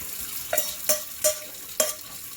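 Ramen noodles stirred with melting butter in a pot, four evenly spaced scraping strokes of a utensil over a low, steady sizzle, close and without speech.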